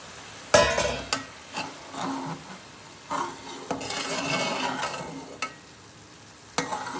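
Sugar syrup poured into semolina halwa in a hot pan hisses and sizzles, then a spoon scrapes and stirs through the thickening mixture, with sharp clanks of the spoon against the pan marking several strokes.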